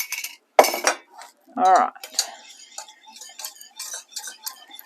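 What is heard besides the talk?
spoon mixing egg yolk in a pan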